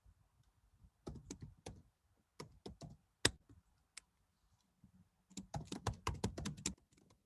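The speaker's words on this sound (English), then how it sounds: "All right, stop typing." Fingers type on a computer keyboard during a class session, quiet in the room, with short bursts of clicking keys, scattered single taps and a denser flurry toward the end, no talking.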